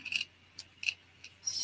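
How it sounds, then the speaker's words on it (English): Scissors snip through paper or fabric at a mixed-media craft table, a few short crisp cuts in quick separate bursts, close and clear in a quiet room. "scissors we cannot forget to use."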